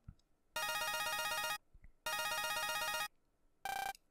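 Synthesized in-game phone ringing in Mega Man Star Force 2: two long bursts of rapid trilling electronic tones, then a brief higher-pitched chime, loud and clear with no talking.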